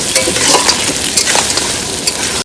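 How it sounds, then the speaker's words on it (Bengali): Crab is stir-fried in a pan on a boat in the Sundarbans in winter, giving a loud, close, continuous sizzle with scraping stirring strokes throughout. "কাঁকড়া কিন্তু সুন্দর করে কষানো হয়ে গেছে"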